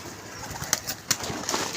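Package pigeons at a pigeon club loft give brief, soft coos and a few sharp chirps, with faint background hiss and no talking.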